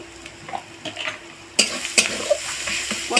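Chili, cumin, coriander and turmeric powders sautéed with onion in a pan, soft stirring that gives way to a louder sizzle with scattered clinks and scrapes of the spoon.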